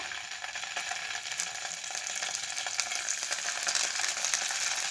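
Paneer cubes frying in hot oil in a pan, a steady broadband sizzle that holds even and close throughout, with faint scraping and stirring clicks and no voices.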